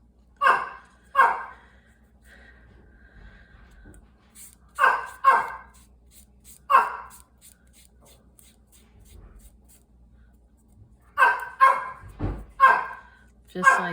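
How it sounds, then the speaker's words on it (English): A dog barks nearby in short bursts of one or two yaps, with quiet gaps between them, set in a room where someone is working on a paper collage. "There's my dog again,"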